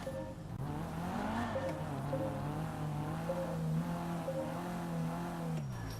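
A car driving over tiles in GTA 5 Turf Wars gives a loud, steady engine drone with rising and falling rev tones that run through the whole stretch, with no voices.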